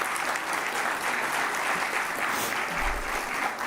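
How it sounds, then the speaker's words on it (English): Continuous applause from a large audience at a law school convocation ceremony, saluting the graduates' parents; an even, moderately distant wash of clapping with no pauses. "A big round of applause to all the parents."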